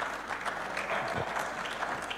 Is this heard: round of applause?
yes